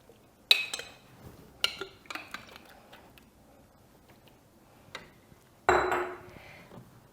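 Home-grown beans being poured into a pan in a kitchen, producing a few sharp clinks and rattles spread out over several seconds, with a louder scattering clatter near the end and quiet gaps between.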